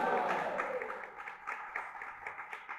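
Audience clapping at a spiritual discourse, a soft, steady patter of many hands, fairly distant and fading slightly over its short span.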